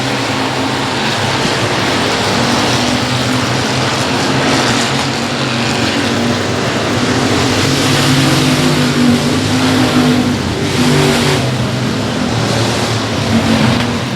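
Stock cars racing on the dirt track at Sabine Speedway, loud continuous engine roar with rising and falling revs as the pack circles, no voices heard.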